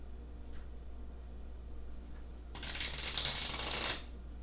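A deck of tarot cards gets a brisk riffle shuffle, a quick crisp fluttering burst up close that lasts about a second and a half after a quiet stretch.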